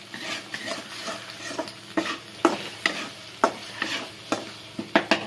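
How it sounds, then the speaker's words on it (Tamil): Masala gets stirred in a cooking pan, a utensil scraping and knocking against the metal in an irregular rhythm of close, sharp strokes over a soft sizzle. "மசாலா கூட கலக்கு."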